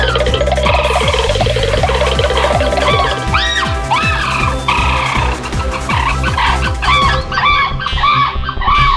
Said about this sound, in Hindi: एक मुर्गा?